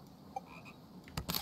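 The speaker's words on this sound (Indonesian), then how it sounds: "Ada kodok." In the video game Toem, a frog croaks with a short sharp call, then a burst of croaks near the end, faint and close, over a quiet ambient background with no talking.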